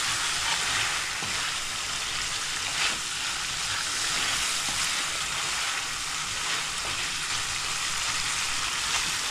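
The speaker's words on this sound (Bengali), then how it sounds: "মাছের মাথাটাকে আমি কষাবো এভাবে" A fish head sautéing in hot oil and spices for murighonto, a loud, continuous close-up sizzle and crackle that stays steady throughout with no talking.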